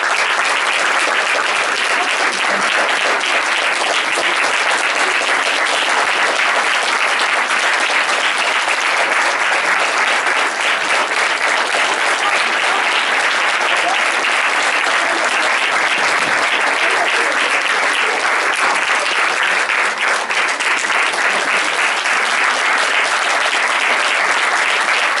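Sustained, loud audience applause fills a cinema hall at a masterclass with director Guillermo, dense continuous clapping throughout with no pauses.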